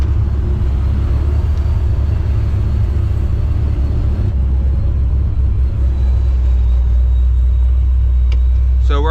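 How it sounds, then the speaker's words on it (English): A supercharged Pontiac GTO with a new starter runs with a loud, steady, deep engine rumble close by, holding a constant heavy drone throughout without any clear separate cranking or voices. "we'll come out and see if this thing starts back up"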